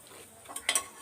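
Fennel, cinnamon, cloves and bay leaf sizzle briefly in hot oil, faint crackling with a couple of small pops or utensil taps, no voices.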